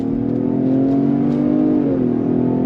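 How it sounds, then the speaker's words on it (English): A 2024 Lincoln Aviator midsize luxury SUV accelerating on throttle, heard from inside as a loud, steady engine drone with rising tone and a smooth shift partway through. "But let's go on throttle again. Are you ready? On throttle, here we go."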